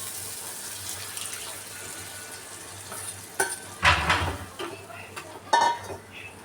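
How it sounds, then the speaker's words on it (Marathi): Water is poured into cooked moong dal in a pan for a tadka dal, with a low background hiss. A few clattering pot and spoon knocks and a splashing burst come midway, and no voices are heard. "पाणी टाकूया लागेल तसं."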